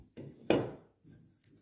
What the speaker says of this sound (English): Plane this up